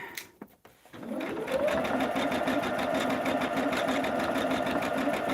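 A sewing machine starts up after a few clicks and runs at a fast, steady whirring pace while stitching a quilt from a jelly cake pattern, close and continuous.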